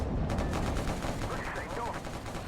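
Dense, continuous rumbling gunfire and explosions from enemy Merkava tanks in a tank battle video game, steady and loud throughout with no clear pauses.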